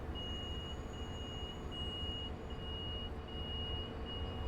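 Repeating electronic warning beeps of the door-locking alarm aboard an F59PHR-hauled bi-level commuter train in Train Sim World 5, a steady evenly spaced high tone pulsing throughout over a constant low engine rumble, with no talk.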